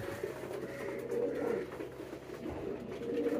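A male pigeon coos repeatedly at a new female inside a cage. The low, throaty calls are close and continuous and sit over a faint background hum.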